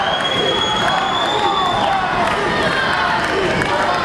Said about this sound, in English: Crowd now chanting for Hardy.